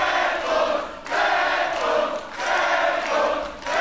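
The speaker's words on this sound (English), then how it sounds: "This crowd is insane." Loud, roaring crowd at an Unlimited Wrestling event, swelling in repeated waves of cheering and shouting that fill the arena, dipping briefly between surges with no clear speech.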